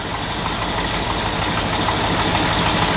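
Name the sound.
1967-68 Jeep J3000 engine idling, exhaust leak ticking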